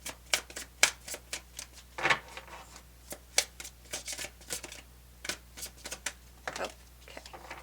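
Tarot cards being shuffled by hand in a quiet room, a run of crisp, irregular riffling bursts and soft slaps, close and fairly faint, with no one speaking.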